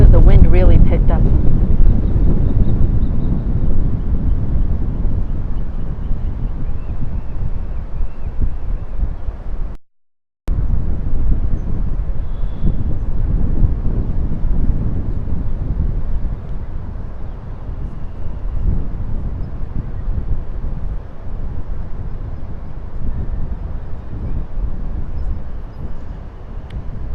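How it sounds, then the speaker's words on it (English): Strong rooftop wind buffets the microphone in a loud, steady low rumble, broken once by a brief dropout, with a voice talking faintly underneath. "Whoa, the wind really picked up."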